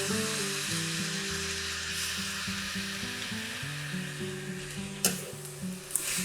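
Coconut aminos sizzle and fry steadily in a hot pan, a continuous close crackling hiss with a brief stirring clatter near the end and no talking.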